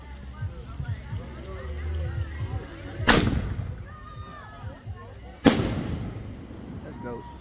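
Two firework mortars burst overhead at a 4th of July celebration, each a loud booming crack with a trailing crackle, spaced a couple of seconds apart, while people chatter nearby.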